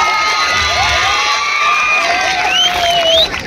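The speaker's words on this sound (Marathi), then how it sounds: "जोरदार टाळ्या वाजवायच्या आहेत" A large live-show audience at a Marathi comedy program in Safale, Palghar cheers loudly, with high whoops and children's shouts over a steady roar that dips briefly at the end.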